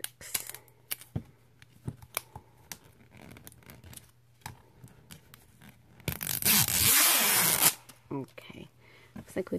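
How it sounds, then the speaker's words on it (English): A small zipper on a toy is drawn in quick scratchy bursts, with one longer, louder zip, amid handling clicks and rustling. "let's see if the zipper works"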